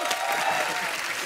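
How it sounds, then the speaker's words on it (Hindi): Loud, dense applause from a stand-up comedy audience, a steady wash of clapping hands at constant strength for the whole brief moment. "जोरदार ताली"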